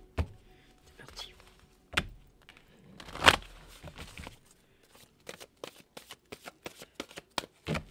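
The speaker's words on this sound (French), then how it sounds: "je mélange les cartes" Playing cards are being shuffled nearby in several separate passes: soft riffles and thumps at first, then a quick run of crisp, rhythmic snaps toward the end, with faint whispering between passes.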